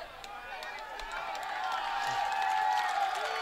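A high school football crowd swells into cheering during a game between Holy Innocents' and Strong Rock Christian, a broad roar heard from the stands that rises steadily over a few seconds.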